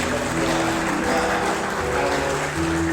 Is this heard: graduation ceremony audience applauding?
yes